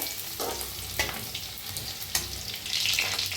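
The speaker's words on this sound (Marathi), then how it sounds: "आता तेल चांगलं तापलं आहे त्याच्यात टाकूया लसूण" Garlic sizzles steadily in hot oil for a Marathi-style quick home recipe, a constant bright crackle with a few sharper spatters and utensil scrapes, growing louder toward the end, no voices.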